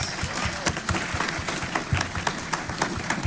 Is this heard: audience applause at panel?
yes